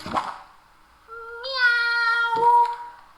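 A woman imitates a cat's meow for a small child, giving two sustained, tonal "miau" calls close to the mic. A brief soft vocal sound comes before them.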